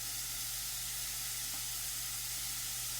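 Ginger garlic mix roasting in a pan gives off a steady, even sizzle that runs close and moderately loud for the whole stretch, with no talking over it.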